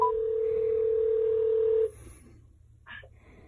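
A phone call is dialed through a TREBLAB HD7 portable wireless speaker: a steady, clear tone plays for nearly two seconds, then cuts off, followed by a quieter pause and a brief electronic blip.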